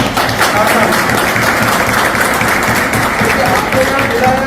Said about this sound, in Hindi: तो मैं उनके लिए एक बार जोरदार ताली चाहता हूं।